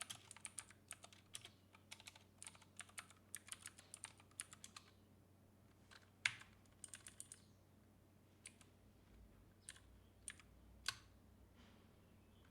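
Keystrokes on a computer keyboard while running package upgrades on a Linux system, clicking in quick bursts of rapid taps separated by short pauses, close and fairly quiet with no talking.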